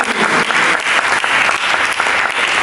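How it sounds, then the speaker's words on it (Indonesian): A church congregation applauds loudly and continuously, dense clapping filling the whole stretch without pause. "Mari kita berikan tepuk tangan."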